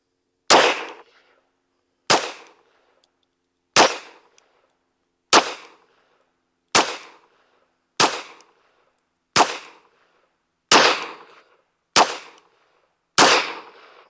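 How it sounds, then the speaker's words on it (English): Ten sharp rifle shots from a Smith & Wesson M&P 22 Magnum fired at a target, evenly spaced about every second and a half, each a loud crack with a short decaying ring. "So let's shoot one more group here at the top right target"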